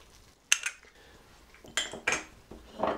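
Flour, paprika, pepper and salt are stirred together in a bowl, giving a few sharp utensil scrapes and clinks against the bowl with quiet gaps between them.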